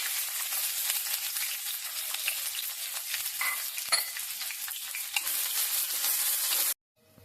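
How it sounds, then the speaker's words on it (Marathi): Capsicum sautéing on high flame with ground coriander, cumin, chili powder and salt: a steady bright sizzle with frequent spatula scrapes and stirs, close and continuous, then cutting off abruptly near the end. "ह्याच्यावरती मी ढोबळी चांगली परतून घेणार आहे हाय फ्लेम वरती"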